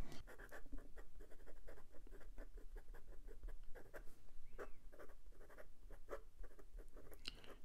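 A fine PenBBS calligraphy nib inked with Ferris Wheel Press Bluegrass Velvet scrapes across paper in a steady run of short, toothy strokes, close and crisp, with no voices.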